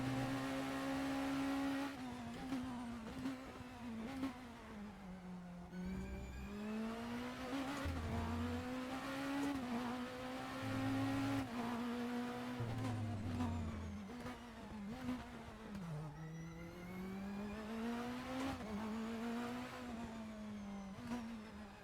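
A race car in the RaceRoom racing game revs hard through repeated gear changes, its engine note climbing and dropping in cycles over about twenty seconds, with brief tire squeals between, loud and continuous with no talk.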